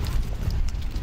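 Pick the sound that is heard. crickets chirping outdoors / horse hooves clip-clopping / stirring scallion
horse hooves clip-clopping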